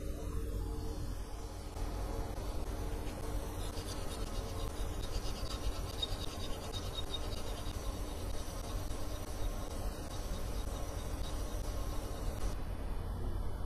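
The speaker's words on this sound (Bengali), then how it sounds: "এবারে ফাইল দিয়ে ওয়াশ করে নিব" Hand file rasping over a cut in a sewing machine presser foot, a steady scratchy rubbing that runs continuously and fairly quietly at close range with no voices.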